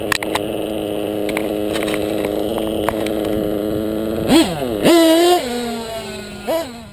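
A motorcycle engine idles steadily and close up, then gets a few short throttle blips that briefly raise its pitch before it settles back to idle.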